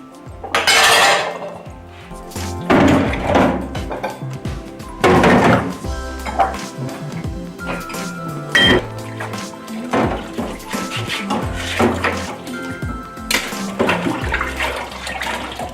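Teacups being washed by hand in a sink with soapnut washing-up water and a scrubber, with repeated porcelain clinks and knocks, splashing and running water in bursts throughout.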